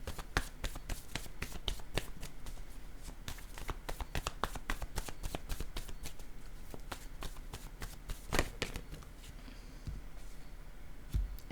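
Playing cards being shuffled for a card reading, a steady run of rapid crisp riffling and flicking close up, with faint speech in the background.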